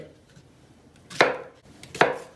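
Onions being chopped coarsely with a knife on a cutting board, two sharp close chops about a second apart over a quiet background with no speech.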